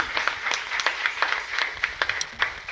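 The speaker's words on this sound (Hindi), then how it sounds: "प्रभु यीशु मसीह के लिए एक जोरदार तालियों का अर्पण हम देंगे" A church congregation at a Sunday service clapping together in steady, rapid rhythm, a dense, lively round of applause filling the hall with no talk over it.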